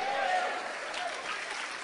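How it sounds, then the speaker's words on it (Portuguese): A church congregation gives steady, dense applause that fills the room, with voices calling out over the clapping. "Dá um glória para Jesus e aplauda ele"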